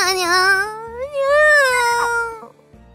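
A catgirl voice from the Nekopara visual novel game meows in a long, sing-song, pitch-gliding string of playful nya sounds, close and clear over a soft background music line; a human voice imitating a cat.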